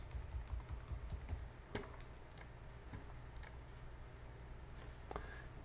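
Someone types a password on a computer keyboard, giving quiet, irregular key clicks in quick bursts that thin out toward the end, faint and close with no talk.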